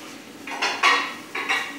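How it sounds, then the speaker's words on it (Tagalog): Plates and cutlery clatter while dishes are being washed, a few close clinks and scrapes in quick bursts. "naghuhugas ng plato"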